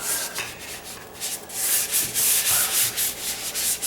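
A drywall patch is sanded by hand with steady back-and-forth strokes, a close, continuous gritty rasp that pulses with each stroke, heard alone without speech.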